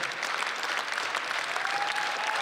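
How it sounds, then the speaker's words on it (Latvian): An audience at the BILDES 2018 concert applauds continuously, a steady, even wash of many hands clapping, fairly distant and moderate in level, with a faint tone rising briefly underneath. "Aplausi, ovācijas"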